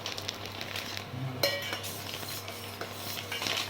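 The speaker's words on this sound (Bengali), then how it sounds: "আটাটা দিয়ে নাড়তে হবে।" Flour being stirred into a pot of boiling salted water with a little oil: scraping and clinking of a spoon against the pot, with a brief louder clatter near the middle, over a steady low background hum.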